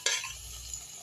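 Crab pieces being stirred in a pan for a Gavran khekda recipe: a single quick scrape and clink of a spoon against the pan, followed by a soft sizzle, short and fairly quiet.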